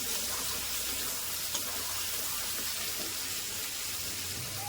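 Chicken liver sizzling steadily in a pan with bay leaves, village-style cooking, a soft continuous fry hiss with faint stirring, fairly quiet and without talk.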